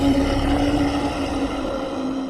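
A Krampus roar sound effect for a wrong answer plays as a loud, gravelly growl with a droning tone, sustained for a couple of seconds and slowly fading.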